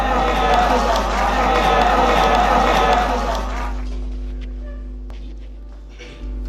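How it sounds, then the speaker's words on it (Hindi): Applause welcoming a poet at a mushaira, a dense loud burst of clapping that fades away after about four seconds, leaving a quieter room with a low steady hum. "भरपूर तालियों में इस्तकबाल कीजिए डॉक्टर शर्जील एजाज शर्जील"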